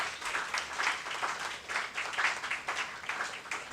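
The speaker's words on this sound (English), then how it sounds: "I request you all to please applaud for our panelists here." Faint, distant applause from a conference audience welcoming panelists at an international management research conference, an even patter of many hands that continues steadily throughout with no talk over it.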